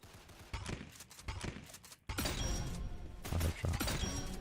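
Gunshots in a first-person shooter video game, loud repeated cracks and bursts of rapid fire that grow heavier and denser partway through, with faint game noise underneath and no clear talking.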